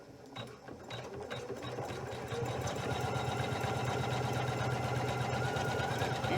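A Janome 500E embroidery machine running a tack-down stitch, a steady rapid mechanical whirr that builds after a brief start and then holds at an even, close, continuous level with no talk.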